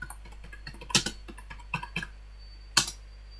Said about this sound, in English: Now type broken link in the search bar.